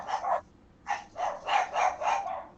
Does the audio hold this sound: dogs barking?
yes